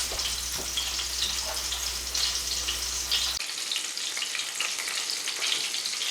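Country fried steak sizzles steadily in a hot pan, a dense, even crackle of frying that holds constant throughout with no voices over it.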